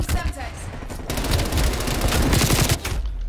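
Automatic gunfire in the video game Call of Duty Cold War rattles in a dense, loud burst that runs almost without a break, with a voice briefly audible underneath.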